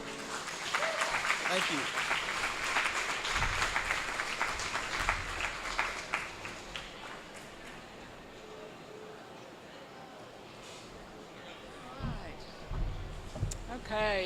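An audience at a county fair farm recognition event applauds loudly for several seconds, then the clapping fades as a voice speaks briefly, with a few scattered claps and thumps near the end.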